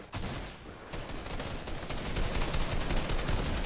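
Dense, continuous gunfire in Fortnite as zombies are shot, loud rapid cracks and booms piling up almost without pause for the whole stretch, no voices.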